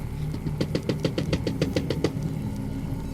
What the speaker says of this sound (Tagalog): Sige pa rin ito sa katok nito sa salamin.